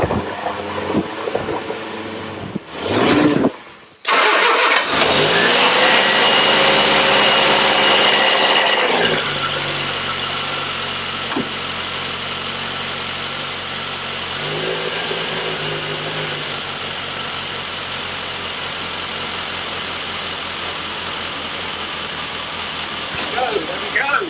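A rebuilt Spitfire-specification engine in a Triumph Herald 13/60 restoration starts for the first time: a short crank, then a loud, close steady run that eases to a lower idle, with speech over it.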